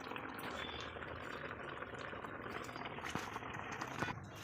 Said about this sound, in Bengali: এখানে পাবদা মাছের ঝোল হচ্ছে, দেখতে পাচ্ছি